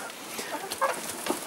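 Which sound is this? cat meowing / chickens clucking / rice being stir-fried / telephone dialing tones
chickens clucking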